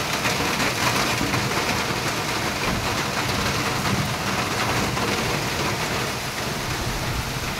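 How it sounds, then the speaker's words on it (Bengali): Heavy rain pours steadily over a mango orchard during an all-day downpour, a dense, unbroken wash of close drumming that stays loud and even throughout, with no voices. "অসম্ভব সুন্দর লাগছে বৃষ্টি।"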